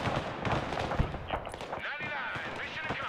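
Anti-tank weapons fire in the war video game Broken Arrow, a dense run of booming shots and explosions layered together amid battle noise, while a voice talks over the gunfire.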